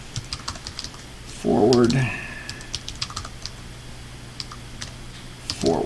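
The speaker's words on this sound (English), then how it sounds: "Don't know about you, but I'm getting tired of typing forward." Keyboard typing during a walkthrough of a Python programming lesson, with steady clicks running under a voice and a few louder key presses near the end.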